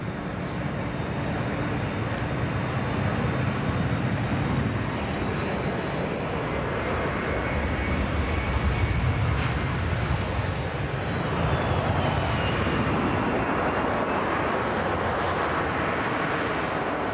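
A C-17 Globemaster military transport jet taxiing at RAF Northolt, a loud steady engine roar and broadband rumble that holds evenly throughout with no speech.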